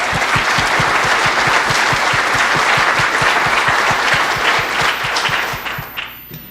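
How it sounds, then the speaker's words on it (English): An audience claps steadily and loudly, a dense wash of applause with a rhythmic beat underneath, fading toward the end. "give them a special round of applause"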